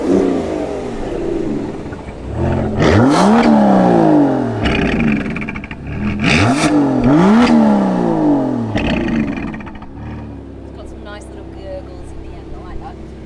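A rare Aston Martin in Sports Plus mode revs hard twice, each rise climbing to a loud roar and falling away, then it settles into a lower idle rumble, close and loud.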